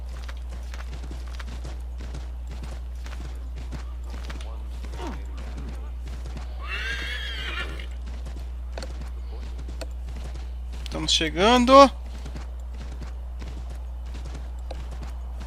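Stolen horse in Assassin's Creed 3 trotting with steady hoof clops, a person speaking briefly over it, then a loud, close neigh near the end.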